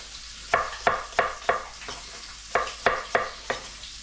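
Pork chops searing in a hot pan give a steady sizzle, broken by about nine sharp, evenly spaced scraping or stirring bursts.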